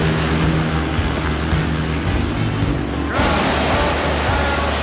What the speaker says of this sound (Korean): 야, 파도가 많이 치긴 하는구나.